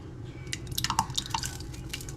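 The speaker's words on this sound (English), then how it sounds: "just adding a little more sauce." Sauce is added to a cooking pan during home cooking that also involves a little sugar, giving a scatter of wet drips and small splashes over a steady background hum.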